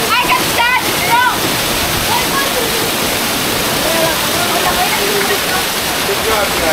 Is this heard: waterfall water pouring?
yes